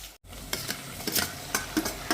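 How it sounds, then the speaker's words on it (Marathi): Onion sautés in a pan for dal palak, a soft sizzle punctuated by several quick spatula scrapes and stirs after a brief silent gap at the start. "कांदा परतवून घेऊ"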